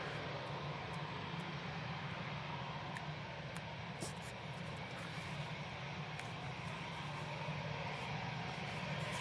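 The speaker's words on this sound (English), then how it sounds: "EasyJet's coming on right in front of us" An easyJet airliner coming in to land at Manchester Airport, a steady, loud roaring engine wash heard alone and nearby, with faint clicks layered over it.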